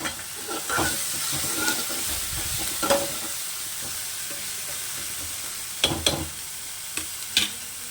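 Tomatoes with a little salt cooking down in a pan, a steady soft sizzle with occasional scraping stirs, close and moderately quiet, no voices.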